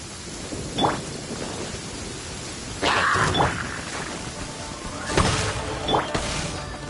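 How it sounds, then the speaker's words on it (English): Rain falls in the Genshin Impact video game, with a steady patter broken by several sharp rumbling thunder cracks a few seconds apart, and no speech. "Let us find shelter from the rain."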